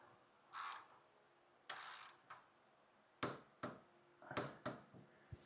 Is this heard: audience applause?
no